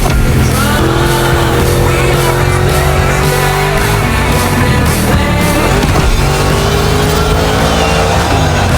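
A monster truck's racing engine roars loudly and continuously in The Crew Motorfest, with shifting revs and occasional tire squeal.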